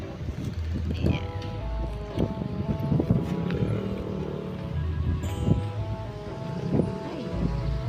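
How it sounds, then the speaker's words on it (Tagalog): Strong wind buffets the microphone outdoors at Aqua Centro, a continuous low, gusty rumble that swells and dips throughout, with voices faintly mixed in. "Ay, ang lakas ng hangin."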